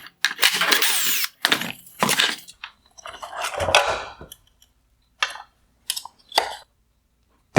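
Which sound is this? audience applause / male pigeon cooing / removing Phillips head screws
removing Phillips head screws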